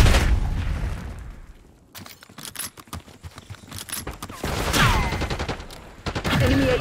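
Gunfire in a Call of Duty Black Ops 6 multiplayer match on the Nuketown map: a dense, close string of sharp rapid shots in bursts, easing into a lull and then returning heavier with more overlapping blasts.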